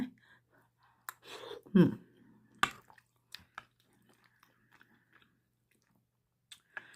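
Someone eating crispy fried fish, with a few crunchy bites and soft chewing sounds close by, then scattered faint clicks and mouth noises in a quiet room.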